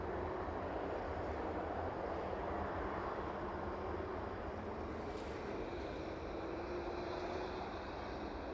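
A Maersk cargo plane on final approach to runway 27 at East Midlands Airport gives off a steady, broadband jet roar that holds at an even level throughout, heard from a moderate distance with no voices.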